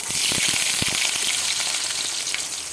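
Carrots frying in hot oil for a Bengali labra vegetable dish, giving a steady close sizzle with scattered crackles and pops throughout and no talking.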